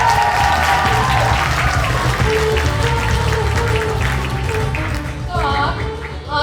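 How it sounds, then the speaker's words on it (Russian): Loud audience applause fills a college award ceremony, sustained clapping from a large crowd with a host's voice and music faintly underneath. "От вас хотим услышать громкие аплодисменты."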